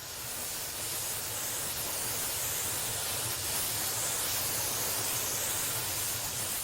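A brazing torch flame heating flux on a metal joint gives a steady, broad hiss like rushing steam, constant and fairly loud from start to finish with no other sounds.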